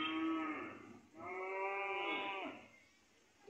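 A cow for sale moos near a mosque, two long, drawn-out lowing calls separated by a short pause, fairly close but soft, with faint outdoor background.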